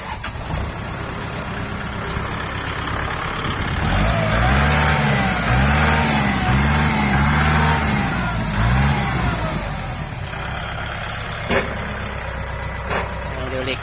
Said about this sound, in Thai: เดี๋ยวฟังเสียงเครื่องดูนะครับ